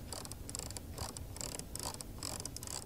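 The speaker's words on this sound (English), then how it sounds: "Shifting lever goes like this, drive, reverse." Shift lever in a 2024 Zeekr 001 electric shooting-brake being moved, giving a series of quiet, crisp mechanical clicks in quick irregular bursts, close by and faint.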